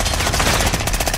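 Rapid automatic gunfire from a gun in the video game Black Ops: a loud, tight burst of evenly spaced shots.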